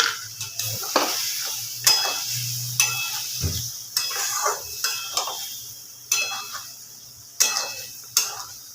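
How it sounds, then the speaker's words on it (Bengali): A spoon scrapes rhythmically through bottle gourd curry frying in a pan, about ten distinct strokes roughly a second apart over a light sizzle. "এবার ভালো করে একটু নাড়াচাড়া করে নিচ্ছি"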